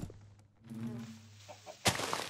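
A Minecraft chicken gives a few short low clucks close by, with a sharp noisy burst near the end and a voice murmuring softly.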